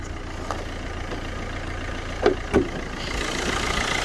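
A steady, low diesel engine idle from a Vauxhall Corsa Ecotec chugs close by under the open bonnet, with a couple of brief clicks or knocks partway through.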